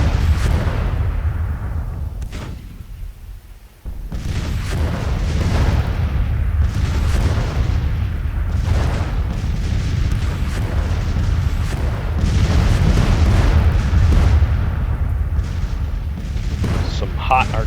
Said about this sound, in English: Some hot artillery fire coming in through everywhere